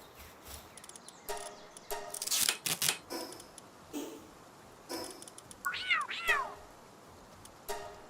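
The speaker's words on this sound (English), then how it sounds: "we're gonna give this cat a name, Pink Pussy." A cat creature in the Palworld video game meows several times, short high calls scattered among clicks and soft tapping, fairly close with no talking.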